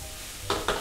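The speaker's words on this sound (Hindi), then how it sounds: "अब इसको स्टर फ्राई करना है।" Two quick bursts of sizzling and tossing as Schezwan noodles are stir fried in a hot pan, close by and short, over a faint background hum.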